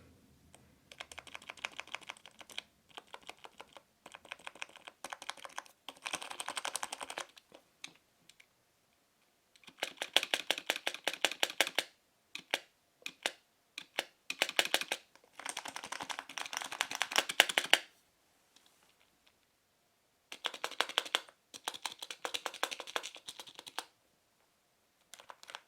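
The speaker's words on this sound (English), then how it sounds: "check out the travel and sound or noise that the keys make" Havit HV-KB380L LED-backlit gaming keyboard typed on up close, bursts of fast, clattering key clicks separated by short pauses.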